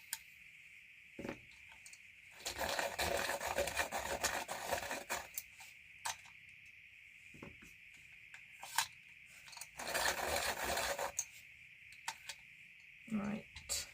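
Coloured pencils being sharpened by hand, close and fairly quiet: two longer bursts of rasping, grinding shavings separated by scattered small clicks and taps, with a faint steady hum underneath.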